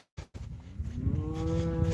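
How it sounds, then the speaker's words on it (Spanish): A cow on a working farm moos repeatedly while searching for her calf, a loud, drawn-out low call that swells after a brief silence and holds steady close by. "Esta vaca no encuentra la cría"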